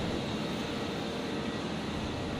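An Alliance Airlines Fokker airliner at Brisbane Airport gives off a steady broadband jet roar that holds even and loud throughout, with no talk over it.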